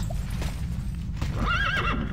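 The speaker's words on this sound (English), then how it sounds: "I'm on a horse!" A horse in the Tera online video game gives a rising, wavering whinny near the end, over a steady bed of game background noise.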